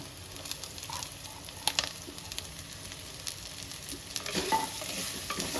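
Onions frying in a pan for a Tamil fish kulambu, a soft continuous sizzle broken by intermittent spatula scrapes and stirring clicks, fairly close, with no talking.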